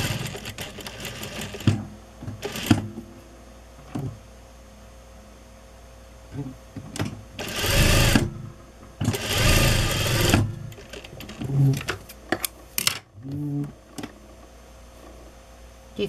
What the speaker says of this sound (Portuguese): Vou costurar assim, revel e depois o ombro da blusa.